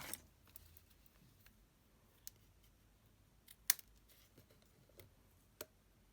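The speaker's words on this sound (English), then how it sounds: "And then we'll trim those ends off now." Scissors trimming the ribbon ends on a small handmade tote gift bag, a few faint crisp snips spaced apart in a quiet room, one sharper cut standing out.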